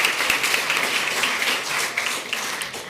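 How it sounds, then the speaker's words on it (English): Audience applause at a school district board meeting honoring a girls basketball team, a crowd of hands clapping with audible individual claps, moderately loud and gradually tapering off over three seconds. "Another round of applause"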